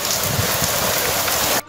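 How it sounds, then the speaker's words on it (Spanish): Rain falling on an outdoor worksite where floor tiles are being lifted for underground water pipes: a dense, loud, steady hiss of pouring rain on hard surfaces, close by and continuous, cutting off abruptly at the end. "Nos agarró la lluvia, muchachos."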